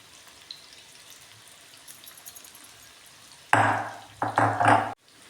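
Fenugreek stalk bhaji fritters deep-frying in oil: a faint low hiss gives way to sudden loud bursts of bubbling and sizzling near the end.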